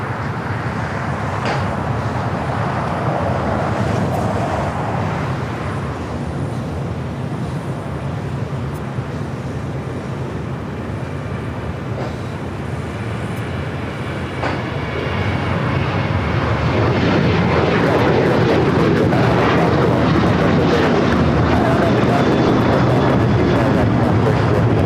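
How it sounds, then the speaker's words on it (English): An American Airlines Boeing 737-800 jet takes off from LAX, its engines roaring steadily and growing louder and broader toward the end as it climbs away. "This is American Airlines 1899 taking off to Indianapolis on the 737-800."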